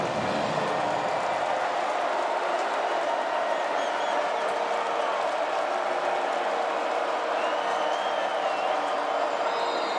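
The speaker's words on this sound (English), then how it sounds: "And now the crowd is into it." A football stadium crowd at a Troy vs Clemson college game roars steadily in the third quarter, a dense sustained wash of cheering and applause from thousands of fans, with a broadcast voice faintly underneath.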